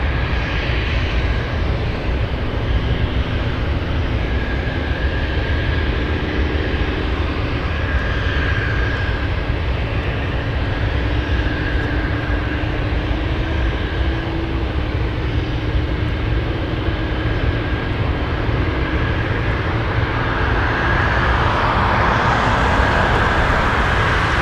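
A Boeing 747 roars continuously on its takeoff run at Anchorage airport, a loud steady jet-engine rumble with a rising whine near the end, heard alone with no voices.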